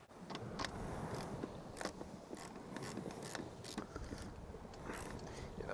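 Loose bolts being tightened on a sailboat's traveler, giving repeated metallic ratcheting clicks and small mechanical taps at close range, steady throughout over a faint background.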